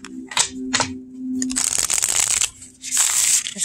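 Oracle cards from a new Thistledown Oracle deck being shuffled by hand, with crisp riffling bursts and soft slaps that come in quick irregular bunches, close and fairly loud, with no talk.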